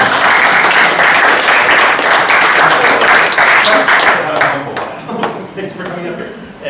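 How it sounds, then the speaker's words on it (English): Audience applause at a live magic show, dense and loud from a full room, sustained for several seconds before thinning into scattered individual claps. "And all this applause is for you."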